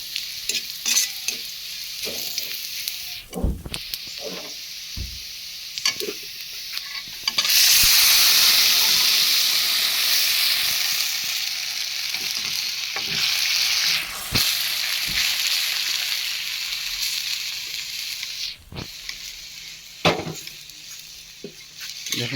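Whole cumin and beef frying in a pan, a loud burst of sizzle starting partway through and continuing steadily, with occasional stirring clinks and scrapes before and after, no talking.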